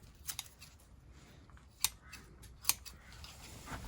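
Secateurs snipping dying leaves off potted nursery plants, with a few separate sharp clicks spaced out over quiet rustling background, close and fairly faint.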